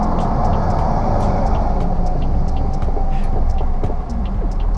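A car engine revs steadily during a manual uphill start in a driving lesson, a loud continuous low rumble with faint clicks and rattles over it and no talk.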